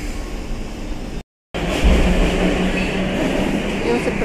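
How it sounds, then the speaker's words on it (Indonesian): An MRT metro train in Taiwan rumbles along the track with a loud, steady roar, broken by a brief dropout, then swelling again as it moves. "Jadi ini saya mau naik MRT."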